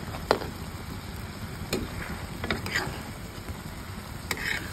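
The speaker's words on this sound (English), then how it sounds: "It's simmering." Beef and broccoli simmering in a pan, a soft low bubbling hiss with scattered faint clicks and small pops throughout, quiet and close with no talking.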